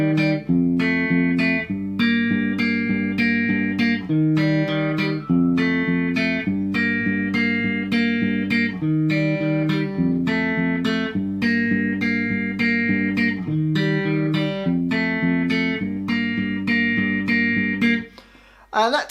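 A guitar plays a song, repeating a short bright melodic line in an even, looping rhythm, close and clear, then stops abruptly near the end.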